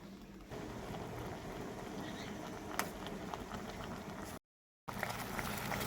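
Leaves simmer in a pot of water for a homemade hair pack, giving off a busy, close bubbling and popping that keeps going steadily apart from one brief cut to silence.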